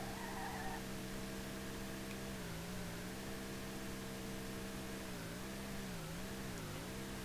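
A car drifting in the racing game SLRR, its engine a sustained tone that repeatedly dips and rises in pitch as it is worked through a corner, over steady background hiss.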